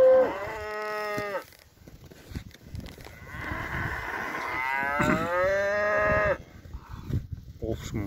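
Several cows, including a young black hornless one kept for sale in a Kazakh village, moo loudly nearby in long overlapping calls, with quieter stretches of farmyard noise in between.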